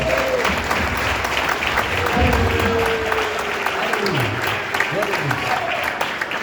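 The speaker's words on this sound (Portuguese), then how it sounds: "Vocês podem dar uma linda salva de palmas para Jesus nessa manhã?" A church congregation claps loudly and steadily together at a Sunday morning service, a dense continuous wash of applause with voices sounding over it.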